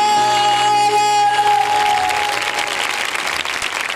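An audience in a church claps loudly and continuously, rising to a dense burst of applause that then settles to a slightly quieter steady clapping, with a sustained tone ringing over the start.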